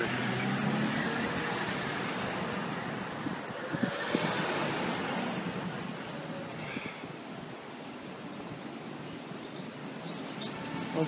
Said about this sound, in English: All this traffic.